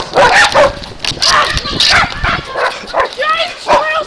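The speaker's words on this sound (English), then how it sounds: "Giant squirrels are attacking! And they bark like dogs!" Giant squirrels in a Resident Evil video game give dog-like barks and yips, repeated several times over continuous excited talk from a player.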